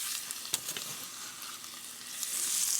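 Ginger matchsticks, scallion whites and chilies frying in hot oil in a skillet, giving a steady, fairly quiet sizzle with a few small pops and crackles that swells slightly toward the end.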